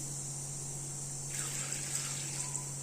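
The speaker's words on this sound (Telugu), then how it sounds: "మూంగ్ దాల్ వాటర్ వేసి" Water is poured into a pot of moong dal for boiling, a soft splashing pour starting partway through over a steady background hum.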